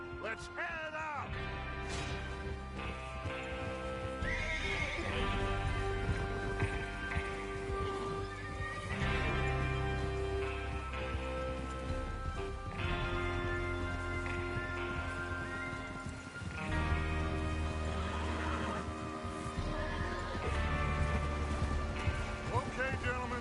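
Horses whinny and hooves clatter amid a busy Red Dead Redemption 2 game soundscape with a steady musical bed and voices talking.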